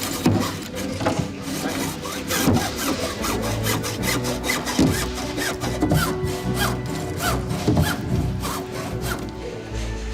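A hand saw cuts through glued-together LEGO bricks, a steady rhythm of rasping back-and-forth strokes, close and continuous, with no talking.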